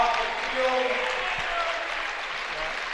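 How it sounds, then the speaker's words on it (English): Spectators in a high school gym at a boys basketball game between the Spartans and the Brodhead Cardinals applaud steadily, a broad sustained clapping that fades slightly toward the end, with a voice talking over it. "Even the Brodhead people standing up and clapping for the Spartans."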